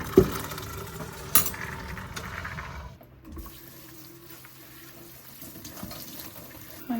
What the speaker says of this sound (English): So now we're gonna go ahead and rinse this water.